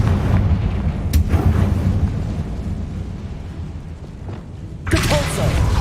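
Confringo fire spell blasts in the video game Hogwarts Legacy, booming impacts over dense game ambience, one near the start and a louder eruption toward the end.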